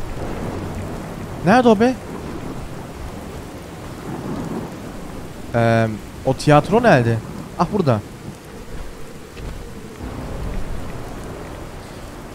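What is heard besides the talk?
thunderstorm with rain in the video game Fallout 4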